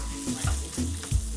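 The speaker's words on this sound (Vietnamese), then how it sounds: "Chúng ta chỉ xào cho cá săn lại thôi." Fish stir-fried in about two tablespoons of cooking oil with minced scallion, for a fish and sticky-corn rice porridge, sizzles steadily and close, with periodic scraping stirs and tosses and no talking.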